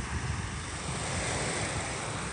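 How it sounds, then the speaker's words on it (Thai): Sea waves wash at Laem Taen beach in Bang Saen, a steady broadband surf hiss mixed with wind buffeting the microphone, with no voices. "น้ำมันกระเพื่อมไปหน่อยคลื่นมัน สั่นไหว"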